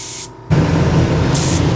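A Procon Boy LWA trigger-type double-action airbrush with a 0.5 mm needle sprays at about 2 bar, a loud steady hiss that cuts off briefly and then resumes in a strong continuous blast, with no talk.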